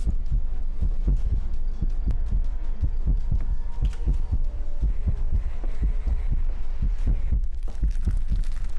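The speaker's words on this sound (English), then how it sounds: "listen to the heartbeat" A loud, steady heartbeat in a video game set in a crumbling school-like building, deep paired thumps repeating evenly throughout with no talk over them.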